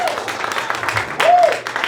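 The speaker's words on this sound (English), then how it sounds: "Can we give her another round of applause?" Audience claps for a teacher at a District 189 Teacher of the Year event in 2023, a short burst of crowd applause with a voice sounding faintly over it.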